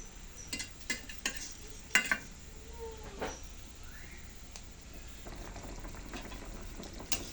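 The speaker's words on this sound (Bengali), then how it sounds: "জল ফুটে উঠেছে" Pot of water boiling on the stove with turmeric spooned in, a soft bubbling bed with a few faint clinks and taps of the spoon, quiet and close.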